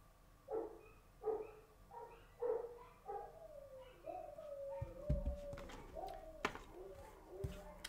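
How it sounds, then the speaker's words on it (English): Several dogs bark in a house as papercraft stamping goes on, a run of distinct, fairly loud woofs with a regular beat at first, then scattered yelps and thumps mixed with faint clatter. "Sorry about the dogs."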